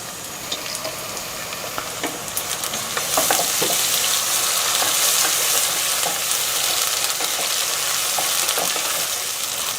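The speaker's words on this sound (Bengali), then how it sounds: "আদা এবং রসুন বাটাটার কাঁচা গন্ধটা চলে যাওয়া পর্যন্ত আমি এটাকে একটু ভেজে নিলাম" Ginger and garlic paste frying with onions in a pan, a steady close sizzle that swells louder partway through with occasional stirring clicks and spatters.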